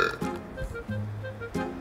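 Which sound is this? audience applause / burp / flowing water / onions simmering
burp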